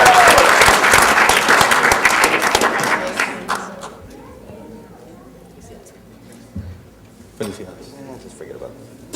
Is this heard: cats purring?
no